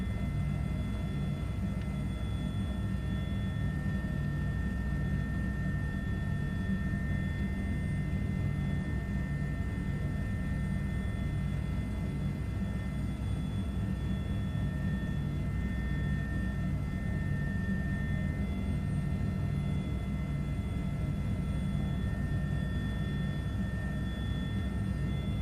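An H145 helicopter in Microsoft Flight Simulator hums continuously, a steady low rotor rumble layered with constant high turbine whine tones, unchanging and without talk.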